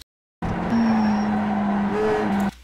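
A Mazda MX-5 race car in the iRacing simulator holds a steady engine drone, then gives a quick throttle blip near the end before the sound cuts off abruptly. Nobody talks.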